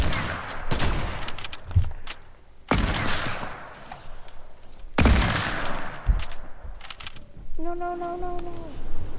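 Sniper rifle shots ring out in a first-person shooter video game, several sharp loud cracks spaced a couple of seconds apart. A short warbling tone comes near the end, and a voice speaks between the shots.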